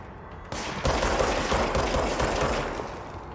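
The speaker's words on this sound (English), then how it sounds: "There's someone shooting me from this side" Dense, sustained gunfire in the video game Control, bursts of automatic shots overlapping into a loud, continuous barrage aimed at the player, with no talking.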